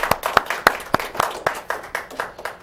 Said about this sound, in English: Can we get a round of applause for this young man?